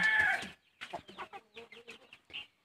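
Backyard chickens, including Rhode Island and black breeds, cluck in a short string of distinct calls after a brief noisy burst, fairly close and alone without talk.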